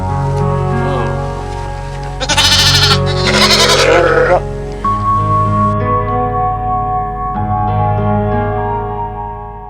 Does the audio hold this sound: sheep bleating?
yes